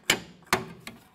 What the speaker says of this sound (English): we're going to use a hammer